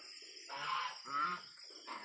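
Geese on a farm flock let out a few short honking calls in quick succession, moderately near, with faint background noise between bursts.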